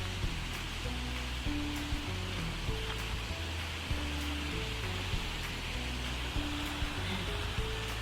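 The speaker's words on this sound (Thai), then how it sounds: "นี่ได้ยินเสียงไหม เสียงน้ำตกเสียงน้ำตก" Khao Chamao waterfall in a Thai national park, a steady broad rush of falling water heard from a distance, with faint tonal hum from a nearby source underneath.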